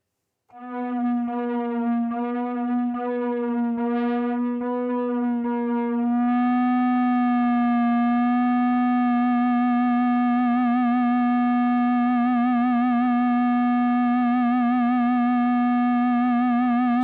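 ATOMS synth by Baby Audio on iOS holding a single sustained tone, first with a light stuttering pulse, then a steady buzzy note with gentle vibrato wobbling the pitch, continuous and loud with no voices.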